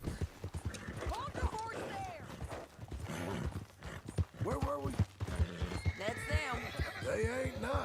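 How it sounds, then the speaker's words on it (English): Horse hooves clip-clopping in the video game Red Dead Redemption 2, a steady walking rhythm heard under ongoing character dialogue, with a brief whinny. "Hold the horse there!"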